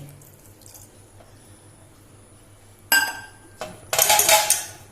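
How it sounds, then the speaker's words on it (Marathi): Water splashes from a tap in bursts, running into a sink with dishes and a vegetable pan while preparing a Goan talkulyachi bhaji, the pours loud and close after a quiet start. "आतां तेजेर वयर भाजी घालुया आनी उदक घालपाचें कशें।"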